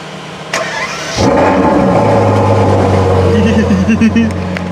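A 2019 Ferrari 812 Superfast V12 engine starts up and settles into a loud, steady running rumble, with slight revving swells toward the end.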